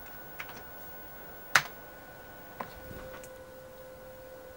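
A few sparse, sharp key clicks from a repaired Commodore 128D keyboard being tested, with one louder tap standing out against a quiet hum.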